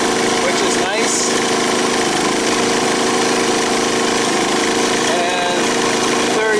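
An Energizer eZV3200P portable generator runs under full load at about 3,300 RPM, its engine producing a loud, constant, droning buzz throughout with no pauses.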